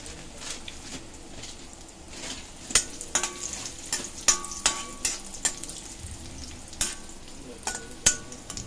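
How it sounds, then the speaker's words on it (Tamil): Raisins fry in a pan for a sweet payasam, giving a soft, steady sizzle beneath a series of sharp taps and scrapes as they are stirred, close and moderately quiet, with no voices. "இப்போது நம்ம வந்து திராட்சையை வறுத்து எடுக்க போகிறோம்."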